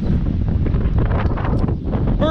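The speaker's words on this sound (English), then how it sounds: "Apologize for the wind." Gusty wind buffets the microphone outdoors on a cold, windy Sunday at a soybean field before combining, a loud, continuous low rumble with no pauses.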